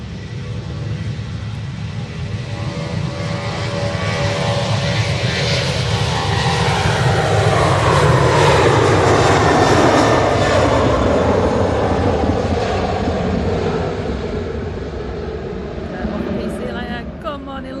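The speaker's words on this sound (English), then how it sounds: "I'm going to go on this engine. I haven't done a Jet 2 engine for a good old while." A Jet2 airliner's jet engine roars at Manchester Airport, a loud, sustained, broadband rumble that swells and holds for many seconds before easing slightly.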